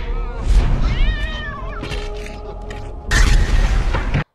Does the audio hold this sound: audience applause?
no